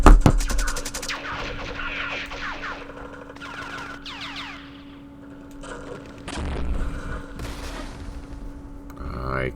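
Artillery and gunfire in the Vietnam War strategy game Campaign Series Vietnam, set at Dien Bien Phu: booming shots and a rattle of fire at the start, then scattered blasts and bursts over a low, steady tone.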